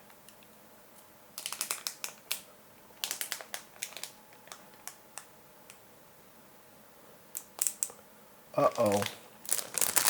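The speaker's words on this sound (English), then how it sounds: "see if we get a decent peel happening" Protective plastic film being peeled off a budget Aerocool Airhawk Duo PC case, with bursts of crackling, crinkling peels that build to a louder tearing stretch near the end, and a brief spoken exclamation.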